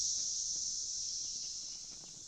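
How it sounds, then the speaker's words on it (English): Periodical 17-year cicadas scream outdoors in one continuous, high, even buzz that holds steady and fades very slightly, with no other sound standing out. "You can hear the cicadas screaming."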